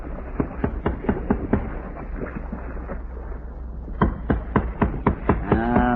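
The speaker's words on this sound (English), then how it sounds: "let's try our own tapping again" Sharp metallic tapping on a ship's hull in a radio drama, a steady series of evenly spaced knocks over a constant low rumble, pausing briefly before another quicker run of taps.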